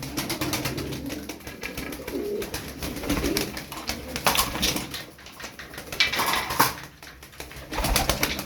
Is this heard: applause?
no